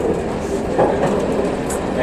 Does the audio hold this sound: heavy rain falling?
no